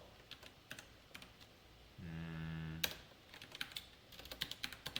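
Fingers typing on a computer keyboard while coding, with quick clusters of light key clicks at close range, a short hum-like tone in the middle, then more rapid tapping.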